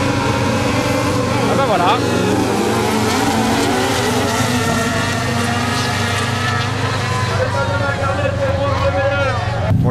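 Motorcycles such as a Yamaha R6 and MT-09 race in an autocross final, their engines roaring loudly and continuously as they pass close by, with a brief spoken remark over the din.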